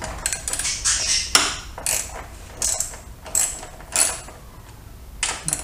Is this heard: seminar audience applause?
no